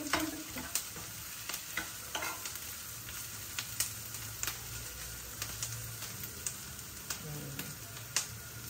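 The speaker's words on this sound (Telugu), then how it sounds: "ఇంకా ఉల్లిపాయలు కొద్దిగా వేగిపోతున్నాయి కదా" Onions frying in a pan for pesarattu upma, a soft steady sizzle under repeated sharp scrapes and stirs of a spatula at an uneven rhythm, close by.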